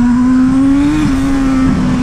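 A loud, steady engine drone from a turbocharged Honda CB1000 motorcycle, with a strong sustained turbo whine holding one pitch, close by, with a brief wobble midway; no talking.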